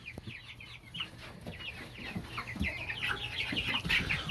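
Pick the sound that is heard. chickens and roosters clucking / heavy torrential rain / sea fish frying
chickens and roosters clucking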